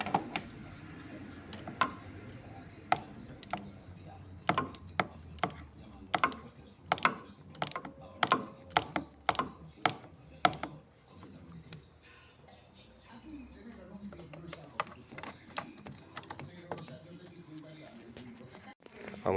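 Sharp metallic clicks and ratcheting sounds come from bolts and covers being unscrewed on a Peugeot Boxer 2.8 HDI (Sofim) engine, irregular bursts of ticks spread through the clip in an otherwise quiet workshop.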